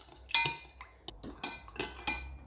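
A chili marinade is stirred in a bowl with a spoon, giving a few sharp clinks and scrapes in an uneven rhythm. The sounds are close and fairly quiet, and no one talks.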